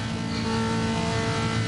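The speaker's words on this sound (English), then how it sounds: "Oh god, the cars are very loud" Race cars roaring around Laguna Seca in a racing video game, a steady loud engine drone with revving and passing cars filling the whole stretch without pause.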